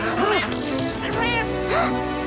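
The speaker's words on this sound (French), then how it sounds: "Le chat!" Cartoon cat meowing in a French children's TV show, a few short wavering cries repeated close up across two seconds, mixed with voiced character sounds.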